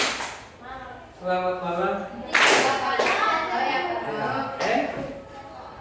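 Sharp hand claps given as a greeting signal in a classroom-style session, a few distinct claps ringing out among several voices, with someone speaking close by and the group responding.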